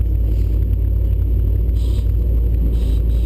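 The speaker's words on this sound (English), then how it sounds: "Here comes another one of them fast Corvettes for you" A Chevrolet Corvette Z06 drag racing at Greer Dragway roars past as a loud, steady low engine rumble, sustained throughout without pauses.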